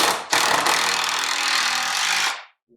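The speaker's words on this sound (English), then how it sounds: "just putting in some 3-inch long screws just to hold" Close and loud, a power drill sinks a 3-inch screw into pallet wood in one continuous whirring, grinding run of about two seconds, following a short start, then winding down to silence.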